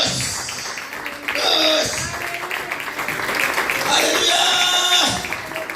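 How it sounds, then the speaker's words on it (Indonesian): A church congregation claps enthusiastically during a service, two swelling bursts of applause under a preacher's loud, exuberant voice. "Tepuk tangan yang meriah"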